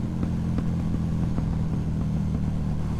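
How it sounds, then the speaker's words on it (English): A KTM motorcycle's aftermarket exhaust with bedding-in baffles rumbles steadily while scattered pops and bangs crackle over the engine drone, close and fairly loud, with no voices. "popping and banging on this now, much more than there was when I first fitted the exhaust"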